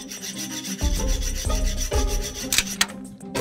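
Rough back-and-forth rasping of a file against a metal prison cell bar, steady strokes in a loose rhythm, fairly close, with a couple of sharp clinks near the end and no talking.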